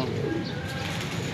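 A racing pigeon coos in a loft, soft low calls close by over a steady background hum.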